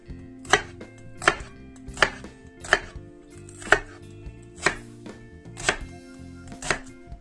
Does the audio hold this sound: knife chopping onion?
yes